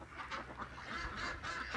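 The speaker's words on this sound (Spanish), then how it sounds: "Son los patos más grandes que he visto, Normita." Large farm-raised ducks in Ecuador quack and honk repeatedly in overlapping, coarse calls close by, forming a continuous noisy chorus.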